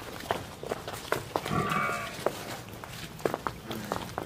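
Buffalo stand at a livestock sale, with shuffling hooves, soft animal movements and a brief low vocal grunt amid a busy outdoor background, close by and moderately loud.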